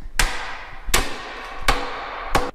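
Four heavy, evenly spaced hammer blows ring out against metal pit bike parts, each a sharp close strike with a short ringing decay.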